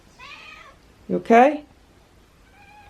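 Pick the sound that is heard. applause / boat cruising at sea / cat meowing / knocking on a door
cat meowing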